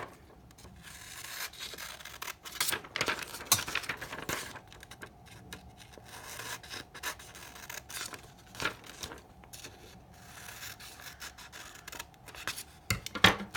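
Paper is cut by scissors along dotted lines, a string of close, crisp snips and rustles with short pauses between them, moderately loud and with no voices.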